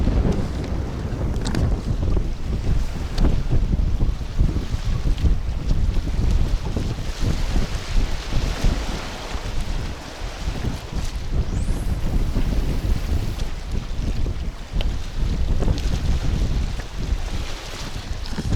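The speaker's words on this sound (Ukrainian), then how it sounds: "Ух ти вітер, який тут" Strong sea wind buffets the microphone on seaside rocks during mullet fishing in Odesa, a steady roaring gust noise with surf beneath it and no talking throughout.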